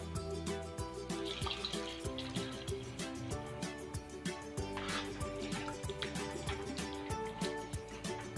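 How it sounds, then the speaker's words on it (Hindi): Water being poured into a pan of frying egg curry masala, a dhaba-style dish; a quiet, irregular run of splashing and bubbling with sizzle underneath, heard close up. "अब हम इसमें डालेंगे पानी।"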